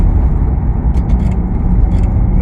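Aston Martin 4x4 SUV climbing a road, a steady loud engine and road rumble throughout with brief higher-pitched hiss bursts, heard from close by with no talk.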